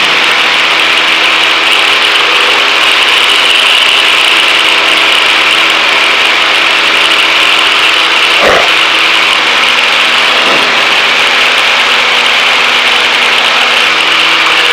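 A Cessna 152 piston engine drones loud and steady in flight, a constant close cabin roar with faint tonal shifts and no speech.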